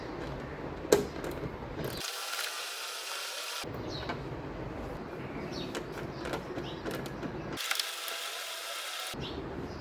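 A ratchet with a 10mm socket works bolts loose on a Kia Sportage, giving quiet intermittent clicks and mechanical rattles at close range, broken by two longer bursts of broadband hiss.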